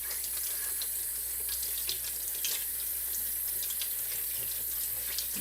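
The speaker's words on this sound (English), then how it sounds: "So what I do is I put the cold water on" Cold water runs steadily from a tap into a metal sink, a constant close splashing hiss with no talk.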